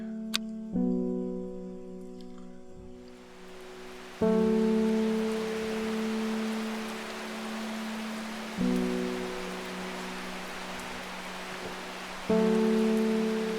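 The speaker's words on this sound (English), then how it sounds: "It's raining again, thundering even." Steady rain in the video game Strange Horticulture patters over a soft background, with low sustained tones swelling in and out at regular intervals beneath it; no voices.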